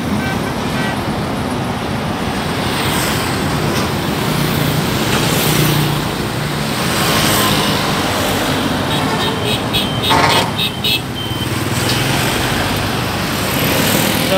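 Dense traffic on the Bien Hoa highway at the Tan Van junction overpass in Vietnam gives a steady, close roar of engines and tires, with passing vehicles swelling and fading throughout.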